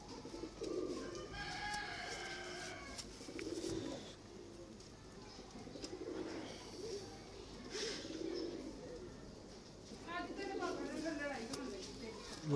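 Pigeons coo nearby in soft, low, repeated throaty calls spaced every couple of seconds, with a few other chirps in the background.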